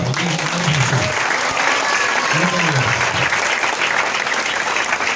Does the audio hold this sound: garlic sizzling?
no